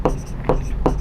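Pen scratches on paper while writing out the answer to a Class 10 coordinate geometry exercise, three short close strokes in an even rhythm over a low steady background hum.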